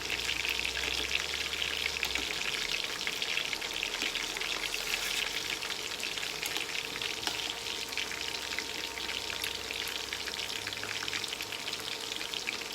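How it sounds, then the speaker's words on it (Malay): Tofu frying in oil gives off a steady, dense sizzle and crackle that holds at an even level for the whole stretch, with no voices. "Goreng tahu ni memang dia rumit pasal lembik."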